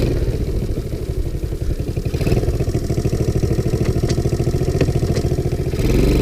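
A small 110cc Sunl ATV engine runs steadily while riding in third gear with the choke off, a close, continuous buzzing putter with slight revving near the end.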